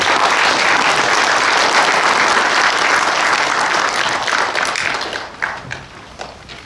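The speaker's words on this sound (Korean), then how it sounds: "박수 쳐주시죠" Applause from a seminar audience as a professor is called up to present, a dense sustained patter of many hands that thins out into a few scattered claps at the end.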